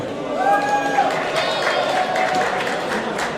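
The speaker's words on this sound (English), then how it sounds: "If you are cheering for the Wasatch Division, cheer as loud as you can." Crowd at a V5RC high school robotics competition cheering for the Wasatch Division, a loud sustained roar of shouts, whistles and scattered clapping from an indoor audience.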